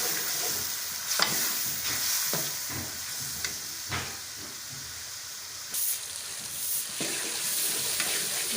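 Masala for paya sizzles and fries in a kadhai as a spoon stirs and scrapes through it, a steady hiss broken by repeated scraping strokes, close and fairly quiet with no talking.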